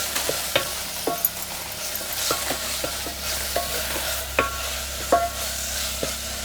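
Spiced potato masala with turmeric is stirred and sautéed in a pan, with a steady sizzle of frying beneath repeated sharp scrapes and clinks of the spoon against the pan.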